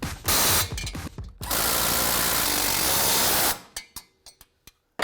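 Power tool tightening sway bar link bolts on a Polaris RZR XP1000 rear adjustable sway bar install, with two loud bursts of whirring, then a series of sharp clicks and short impacts fading out.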